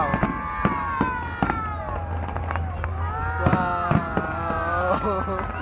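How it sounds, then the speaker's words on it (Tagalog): Sharp firework bangs pop at irregular intervals, some distant and some closer, while excited voices talk over a pyromusical display at the Mall of Asia, Philippines. "Parang ang tipid nila sa fireworks."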